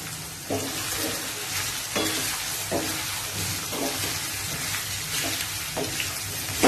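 Cauliflower, potato, peas, tomato and beans frying in a pan for kids' chowmein, a steady sizzle broken by regular scraping stirs roughly every second, close and moderately loud with no talk.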